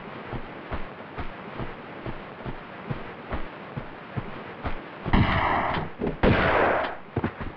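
Gunfire in the video game Tomb Raider 2 as a spawned shotgun enemy is ambushed: a few loud blasts near the end, following a stretch of quieter game ambience with soft rhythmic thuds.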